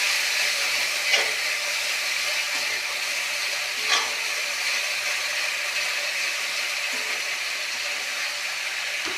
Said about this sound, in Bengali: আদা জিরে বাটাটা আমি ভাজা করে নিচ্ছি।